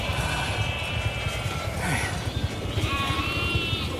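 Sheep bleat repeatedly in the video game The Alters, several wavering calls rising over a steady, busy game background with light hoof-like clatter.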